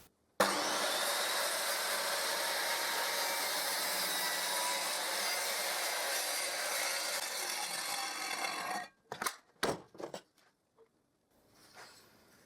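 A wooden strip clamped in a cutting jig being cut with a power saw, a loud continuous broadband roar for about eight seconds, then a few short bursts and knocks as it stops.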